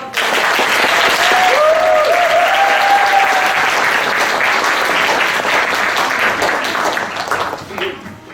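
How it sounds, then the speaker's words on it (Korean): An audience at a food-and-book concert applauds loudly and continuously, a dense close wash of clapping that fades near the end, with a voice briefly heard over it. "박수 한번."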